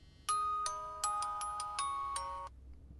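A phone rings for an incoming callback on a mobile, three clean electronic melodic bursts of tones with short gaps, clear and close with no talk.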